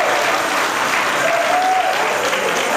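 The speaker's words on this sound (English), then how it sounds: "Mount Ebenezer Church, let's give them a round of applause." Audience giving a round of applause for a church choir, a loud, dense, steady burst of clapping that runs throughout.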